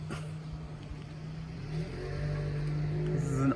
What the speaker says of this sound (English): and there's the car.